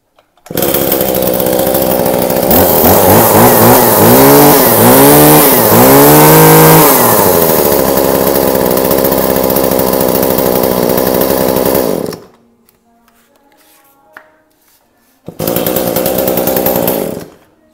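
A Japanese Hitachi 33cc two-stroke brush cutter engine runs loud and close, revving up and down in rising sweeps before settling to a steady roar, cutting out, then restarting.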